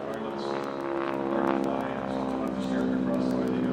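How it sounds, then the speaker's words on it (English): A T-6 Texan, the World War II advanced trainer propeller plane, drones overhead with a steady, loud, buzzing engine tone that swells slightly and holds for several seconds. "T-6 Texan overhead, advanced trainer, World War II"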